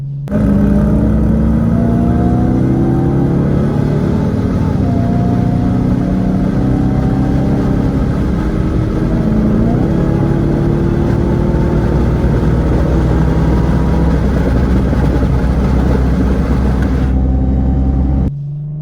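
An Infiniti G37 races a Hemi-powered car, the engines roaring loud and steady with rising tones as they accelerate hard, holding strong for nearly the whole stretch before cutting off near the end, with no talking.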